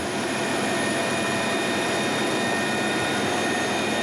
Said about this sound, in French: l'hélicoptère de la sécurité civile se dirige vers l'hôpital de La Rochelle.